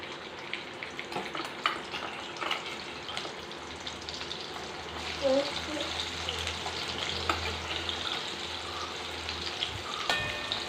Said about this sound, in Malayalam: എണ്ണ ചൂടായിട്ടുണ്ട് നമുക്കപ്പോൾ പാവക്കിട്ട് കൊടുക്കാം